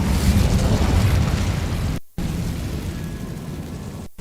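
A fire spell cast in Hogwarts Legacy on PS5: a loud, roaring burst of flame noise filling the whole clip, broken by a sharp cutoff at two seconds before surging again at full strength.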